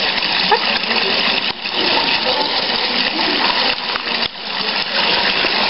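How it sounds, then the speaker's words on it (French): A decorative carafe fountain pours water in a continuous, fairly loud gushing splash that runs unbroken for several seconds with slight dips. "En fait c'est une carafe et donc elle fait couler l'eau"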